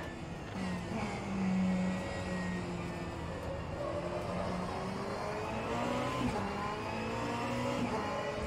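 GT3 race car engines drone and rev continuously in a sim racing game at the Hockenheimring GP, with rising and falling engine pitch as cars accelerate and shift, fairly quiet and steady throughout.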